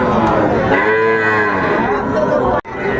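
A young Sahiwal bull calf at the Ambari cattle market in Dinajpur lets out one long, loud, close moo that swells and drawls for over two seconds before breaking off, with a low market hubbub beneath it.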